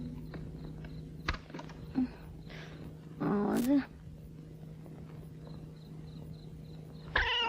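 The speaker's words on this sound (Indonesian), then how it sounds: "Udah masuk itu kucing." A cat makes a short tonal cry and vocal sounds indoors at night, in a quiet room with a steady low hum; brief knocks and a louder rising call come near the end, with a few faint voices around it.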